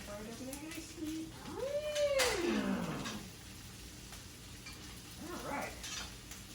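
Chicken pieces sizzle in a pan while a utensil scrapes and stirs them around, with soft clattering under steady frying hiss and a brief voice-like sweep in the middle.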